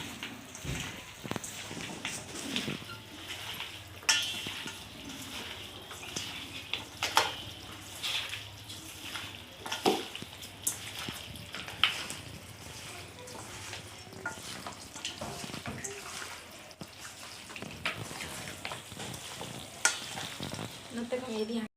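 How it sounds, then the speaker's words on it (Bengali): Chicken is worked by hand with mustard oil and spices for a curry, giving close, wet squelching and stirring sounds in irregular bursts throughout, with no talking. "তারপরে সরষের তেল, এগুলো দিয়ে এখন ভালোভাবে মেখে নেব।"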